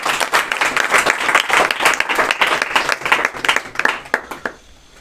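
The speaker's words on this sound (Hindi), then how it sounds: "तालियों से स्वागत कीजिए।" A crowd at a motivational speech applauds loudly and continuously, the clapping thinning out and fading away toward the end.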